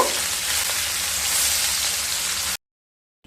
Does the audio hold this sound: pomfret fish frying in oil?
yes